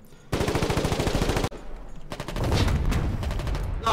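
Machine gun fire in the wartime game Foxhole, two long rapid bursts of loud, close rattling shots separated by a brief gap, with a further burst and distant battle noise behind.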